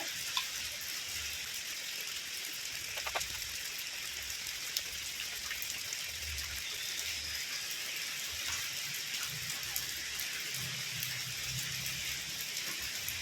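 Steady rain falling outside a home on a rainy day, a continuous soft hiss with scattered faint drips, even and unbroken throughout with no voices.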